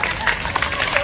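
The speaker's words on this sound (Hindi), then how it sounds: "हाँ अब और ताली मारो।" Women clap together at a workers' awareness gathering in Udaipur, Rajasthan, a short burst of steady, close applause with voices mixed in underneath.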